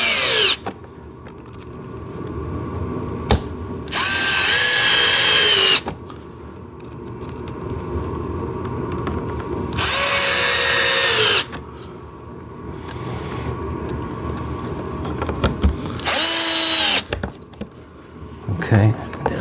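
Three loud bursts of a power drill driving small screws into parts of a blue and red JCB ride-on toy tractor excavator, each lasting a second or two, with quieter handling sounds and talk between them.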